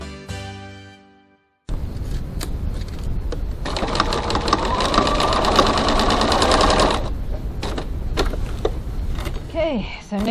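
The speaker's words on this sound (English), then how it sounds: "stitching the second side" A sewing machine stitching the second side of a crossbody bag runs in a steady, close mechanical whir after a short lead-in, then stops and starts briefly near the end.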